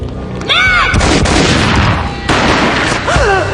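Gunfire booms loudly in the Max Payne Mobile video game, set against a dense, roaring score and effects. Heavy blasts begin about half a second in and again near the two-second mark, with tonal swooping effects layered over them.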